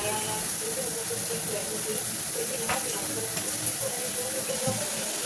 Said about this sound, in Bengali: এইভাবে আমি 2 পিঠ লাল করে ভেজে নেব